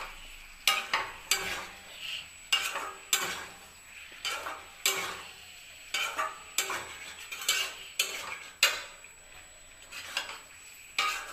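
Potatoes with spices sautéed in a pan for aloo dum, a spatula scraping and clinking against the metal in a steady rhythm of repeated strokes over a faint sizzle, with no talking.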